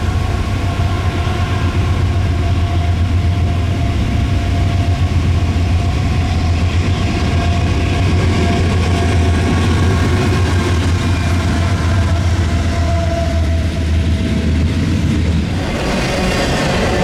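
A Norfolk Southern intermodal freight train throttles up from a siding and rolls past close by, a steady loud diesel drone under a continuous rumble and wheel noise that fades slightly at the end.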